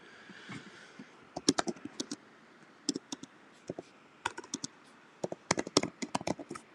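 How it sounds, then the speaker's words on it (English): Keys struck on a computer keyboard during a live online business Q&A, heard as irregular bursts of sharp clicks and clacks at close range, with brief pauses between runs and no talking. "I'm probably deafening you with the keyboard strikes as well"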